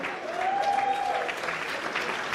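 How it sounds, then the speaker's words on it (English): An audience claps for a guest at a sports talk show, a dense sustained round of applause from a crowd, close and lively throughout. "Everybody give Cormac a big round of applause."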